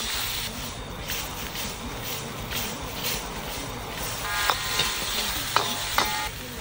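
Garlic and onion frying and being stirred in a pan over a campfire on a camping trip in the forest, with a steady loud sizzle and occasional sharp scraping clinks of the utensil near the end.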